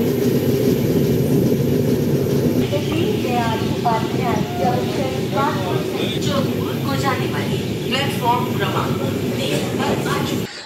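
A passenger train running overnight toward Parasnath, Jharkhand, with a constant low rumble of the carriage and rhythmic wheel clatter throughout, while people talk nearby over the noise.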